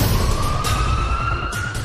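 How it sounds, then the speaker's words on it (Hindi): An air raid siren sounds at night in Jerusalem during an Iranian missile attack, a steady, loud wailing tone that holds across the whole short stretch. "यरूशलेम में रात के सन्नाटे को तोड़ती सायरन की डरावनी आवाज।"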